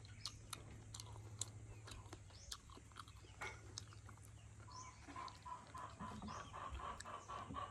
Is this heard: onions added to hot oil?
no